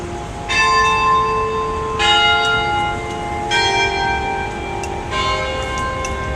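Bells in the tower of St. Mark's in-the-Bowery peal in a steady sequence of four loud, ringing strikes roughly one and a half seconds apart, their overtones lingering and overlapping above a constant street-level hum.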